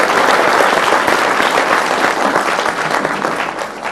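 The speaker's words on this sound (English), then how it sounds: "please give yourselves a round of applause for creating time to be here" Sustained, dense applause from a forum audience at a leadership event, loud and steady throughout before easing slightly toward the end, with no voices standing out.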